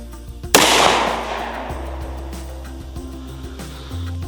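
A Kimber KDS9c pistol fires a single loud shot of civil defense ammunition, a sharp crack with a long decaying tail at close range, then quiet.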